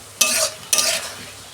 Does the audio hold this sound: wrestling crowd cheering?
no